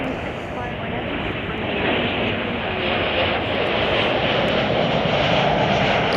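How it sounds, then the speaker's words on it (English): An Austrian Airlines airliner bound for Vienna takes off from Chicago O'Hare, a dense, continuous engine roar that builds a little after the first seconds and stays strong, with no voices. "you're looking at Austrian Airlines, going to be taking off to Vienna"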